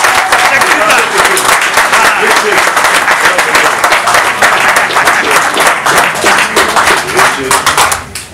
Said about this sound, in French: Donc si on peut applaudir.